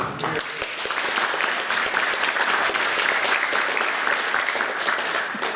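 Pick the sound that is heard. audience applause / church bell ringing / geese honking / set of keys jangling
audience applause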